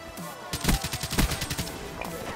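Gunfire in a video game: a fast burst of rapid shots rattling for about a second and a half, loud and close, followed by a quieter tail, with no talking.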